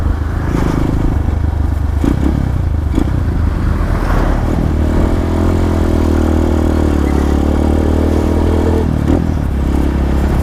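RUSI KRY-200 motorcycle engine running loud and close through its muffler, a steady throbbing low rumble that swells slightly in revs midway and holds for the whole stretch, with faint clatter and no talking.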